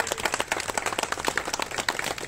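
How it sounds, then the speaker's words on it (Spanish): A crowd claps for a parish priest from Zacatecas at a pilgrimage gathering in Tarimoro. The individual hand claps are distinct and uneven, a thin scattered patter rather than a full roar. "Denle un aplauso, por favor,"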